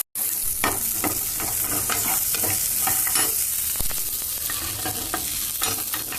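Green chillies and garlic frying with cumin in hot oil, giving a continuous close sizzle punctuated by frequent spatula scrapes and stirs.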